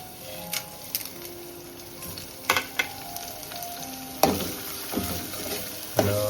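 Ground masala paste fries quietly in oil in a pan for a Maharashtrian amti. Soft sizzling runs underneath, broken by scattered clicks and scrapes of stirring.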